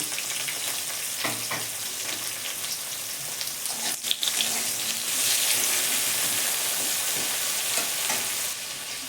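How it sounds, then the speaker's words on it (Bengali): Chopped onion and tomato frying in a pan, a steady loud sizzle with occasional stirring scrapes throughout. "টমেটো পেঁয়াজটা ভেজে নেব"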